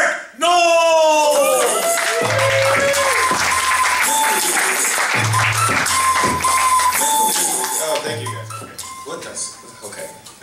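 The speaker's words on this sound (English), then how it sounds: "let's give you a round of applause, Mr. Eric" Loud, dense applause with whoops from a comedy club crowd in San Diego greeting a comedian, following an emcee's shouted introduction and continuing steadily over music before tapering off near the end.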